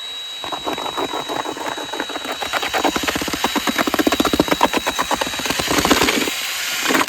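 A hand mixer whirs as it beats a small batch, starting as a steady motor drone and then thumping rhythmically as the beaters catch the mixture, close and without talk.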